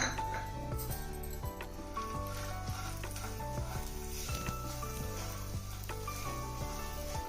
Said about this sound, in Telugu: మీడియం ఫ్లేమ్ పెట్టుకొని వేయించుకోవాలి అదే నేతిలో మిగతా అవన్నీ కూడా వేయించుకుందాం